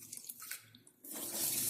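Filtered tap water runs into a pot of rice being rinsed at a sink, first with light splashes and then as a steady, close rush of flowing water.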